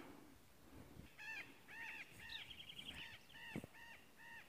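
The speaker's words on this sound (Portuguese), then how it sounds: "Papagaios passaram aí fazendo um barulho." Harsh, repeated squawking calls from several parrots flying past, rhythmic and moderately faint, at a distance over a background hum.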